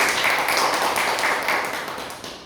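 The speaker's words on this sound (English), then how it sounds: "Round of applause." An audience at a Toastmasters meeting gives a round of applause, a dense, loud wash of clapping that slowly fades toward the end.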